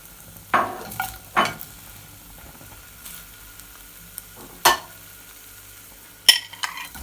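Chilli and garlic fry in a cast iron skillet, a soft background sizzle punctuated by four or five sharp stirring scrapes and clanks at uneven intervals.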